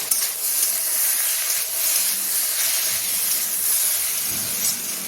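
Chili and coriander powder frying in a pan for khichuri and mixed vegetables, a loud, continuous bright hiss and sizzle close by with no talking.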